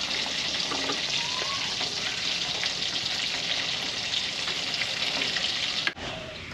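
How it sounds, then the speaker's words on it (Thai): Thick slabs of pork belly deep-fry in oil over low heat, giving a dense, steady sizzle and crackle heard up close throughout, with a faint clatter just before the end. "ทอดไฟอ่อนนะคะ ค่ะทอดไปเรื่อยๆไม่งั้นเดี๋ยวมันจะไหม้ก่อน"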